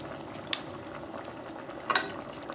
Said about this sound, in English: I'm going to add the meat back in now.